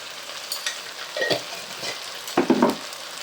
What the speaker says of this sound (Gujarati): બધાને મિક્સ કરી દેવાનું